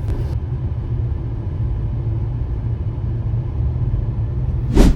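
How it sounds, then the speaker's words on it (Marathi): A family's new car reaching the gate of Anantam at a Saturday market, heard from inside as a steady low engine and road rumble, loud and continuous, with a brief sharp sound at the very end. "म्हणजे फायनली आमची गाडी अनंतमच्या गेटवर इलेली असा तुम्ही बघू शकता"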